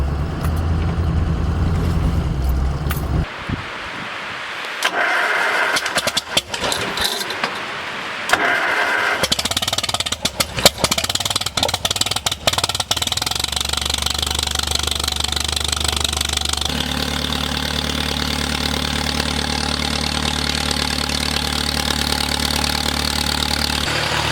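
A Farmall M tractor engine on a snowy farm starts up and settles into a steady, loud, close idle while warming up, its rough mechanical thrum running continuously with no talk.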